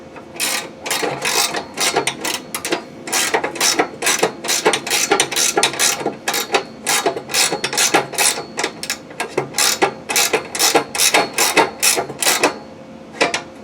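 A ratchet runs a bolt down on a Ferris FW15 mulch kit, giving rapid bursts of metallic clicking in repeated strokes with short pauses between, close and fairly loud, no talking.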